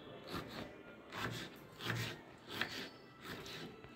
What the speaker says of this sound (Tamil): நான் இப்போ தான் தக்காளி கொஞ்சம் நறுக்கின்னு இருக்காங்க.